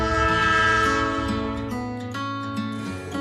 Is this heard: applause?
no